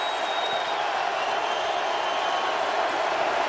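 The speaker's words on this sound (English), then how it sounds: "Crowd loud" A loud football stadium crowd roaring during a big third-down play at an NFL game between Tampa Bay and Atlanta in Atlanta, a dense, sustained wall of cheering and noise that holds steady without breaks.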